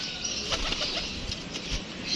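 A young pigeon flaps its wings close by, a few soft fluttering bursts over a faint outdoor background, with no voices.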